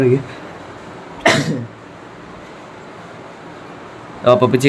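Two short, harsh bursts a few seconds apart, a cough and then a sneeze, close by against a quiet room hum during an eFootball match.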